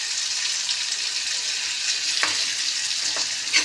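Two medium onions and green chillies fry in a pan for bitter gourd chorchori. The oil sizzles steadily up close, with a few sharp stirring scrapes near the end.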